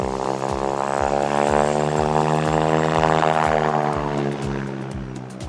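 Two propeller airplanes roll together into a high-alpha maneuver, their engines droning loud and close with a steady pulsing beat throughout.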